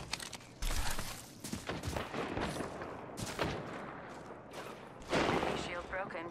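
Video game gunfire crackles in sharp, close bursts, several rapid volleys with short pauses between them, loud and punchy against a busy game background.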